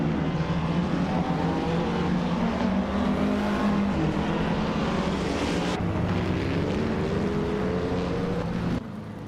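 A 1950 Ferrari 375 F1 race car engine in a racing video game drones loud and steady close by, its pitch sliding up and down as it accelerates, then drops off abruptly near the end.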